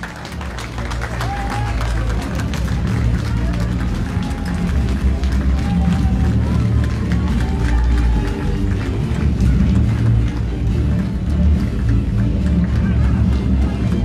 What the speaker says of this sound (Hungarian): Ezt a vágtát nézzék